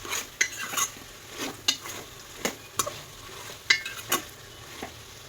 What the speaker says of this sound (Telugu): గరం మసాలా వేసుకుని తిప్పుకోవాలి